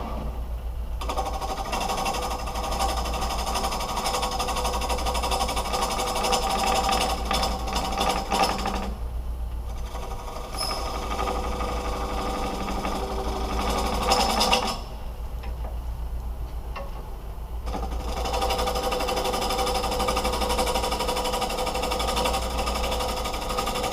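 A wood lathe runs with a steady, close mechanical drone and a rough, scraping cutting texture; the sound briefly thins twice before resuming, and no one speaks.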